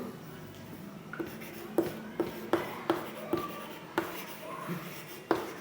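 Chalk or pen strokes writing maths equations on a board, a series of distinct taps and scratches at irregular intervals, fairly close and moderately quiet, with no talk over them.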